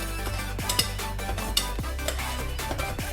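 Raw coriander seeds and cumin fry in a pan for a tomato bath, with a steady faint sizzle under repeated clinks and scrapes of a spoon stirring against the metal pan.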